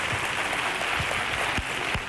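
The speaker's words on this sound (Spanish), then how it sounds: "Y ese aplauso" Clapping from the crew and audience of the copla music show Se Llama Copla, a broad, even wash of applause held at moderate loudness throughout.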